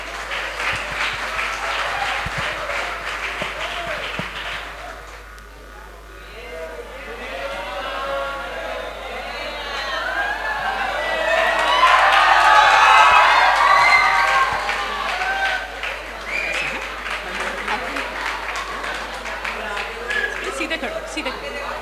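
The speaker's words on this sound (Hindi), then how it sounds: "जोरदार तालियां उनके लिए।" Audience in a talk hall clapping for a volunteer called up on stage, a broad crowd applause that dips briefly, then swells louder with some cheering before settling, with a voice speaking over parts of it.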